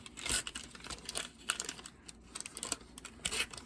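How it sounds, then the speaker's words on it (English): Backing paper is peeled off a sticky fungus gnat trap, giving close crinkling and tearing bursts in quick uneven succession with brief pauses between them. "and then you just peel this paper back"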